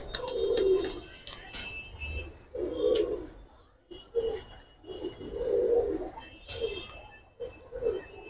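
Pigeons at a Bangladeshi pigeon seller's, including a pair of green Gorra pigeons, coo repeatedly in close, rolling bursts, with faint higher chirps from other birds in the background.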